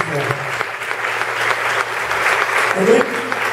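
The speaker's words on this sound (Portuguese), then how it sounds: "Uma salva de palmas muito forte." Strong applause from a church congregation during a Tuesday worship service, dense and steady clapping filling the room for several seconds with a low hum underneath and some voices mixed in.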